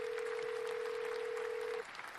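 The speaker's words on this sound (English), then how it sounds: "so we're ringing out now" A steady single-pitch tone from a telephone line as an outgoing call is placed, holding for nearly two seconds before cutting off, leaving faint background hiss.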